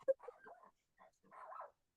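Several dogs bark and yip in short bursts at close range, with brief gaps between them.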